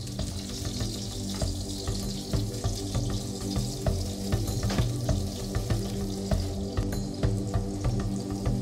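Chopped green onions sizzling and frying in oil in a covered pan, a steady crackle with irregular pops continuing throughout at moderate level, with no voices.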